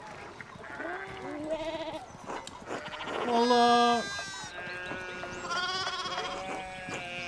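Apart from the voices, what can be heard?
sheep bleating in the video game Pentiment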